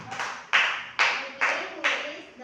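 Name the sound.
classroom clapping for a group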